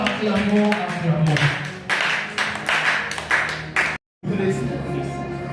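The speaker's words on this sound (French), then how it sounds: "Est-ce que nous pouvons acclamer Jésus-Christ? Acclamons." A church congregation claps to acclaim Jesus Christ, with quick, sharp hand claps crowding together under loud voices that carry on over them, before a brief drop to silence and a return of the clapping and voices.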